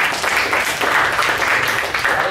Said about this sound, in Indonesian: Tepuk tangan dulu buat Anda